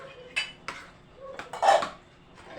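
Pot lid and dishes clattering at a family meal, a few scattered clinks and clanks of cookware and cutlery nearby, moderately loud, in irregular bursts with no talking.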